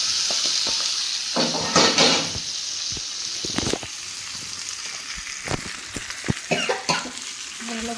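Okra frying in a pan for a curd-okra curry, with a steady close sizzle and intermittent scraping clinks of a utensil stirring against the pan.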